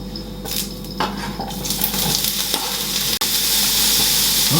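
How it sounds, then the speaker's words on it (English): Food sizzles and crackles steadily in a frying pan while being stirred, with faint kitchen clatter and a brief running-water sound, close and continuous with no talking. "I will put the stuff in the frying pan now."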